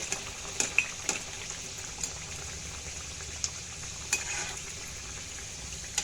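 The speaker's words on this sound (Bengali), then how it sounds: "এবার এটাকে আস্তে আস্তে ভাজা করব।" A mini Mughlai paratha deep-fries in hot oil, giving a soft, steady bubbling hiss with a few scattered faint pops, quiet and even throughout.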